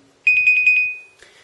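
An Alcatel 990 Chrome phone sounds its incoming SMS alert: a quick burst of about six bright, evenly spaced electronic beeps, close and loud, then a faint rustle.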